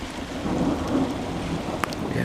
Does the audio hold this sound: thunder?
yes